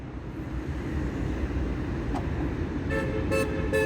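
A Skoda Citigo e iV electric car-sharing car locks with a quick series of about three short horn chirps near the end, after a steady wash of street traffic.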